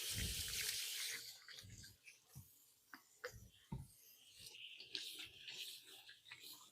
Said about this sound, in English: I'm going to give my hands a quick wash.